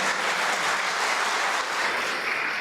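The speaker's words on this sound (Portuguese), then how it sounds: "uma salva de palmas para o Honório, de forma de agradecimento por ter me ajudado" An audience applauding at a lecture on workplace moral harassment, steady dense clapping from a crowd that holds at an even level throughout.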